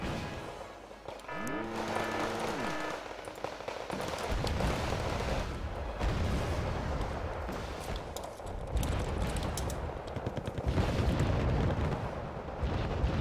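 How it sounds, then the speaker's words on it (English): Mortar fire thunders in the war strategy game Wargame Red Dragon, a dense run of deep explosive blasts and rumbling impacts that overlap almost continuously. A whining tone is heard early, with no talk. "Thank you, Mortars, for providing absolutely pointless precision fire"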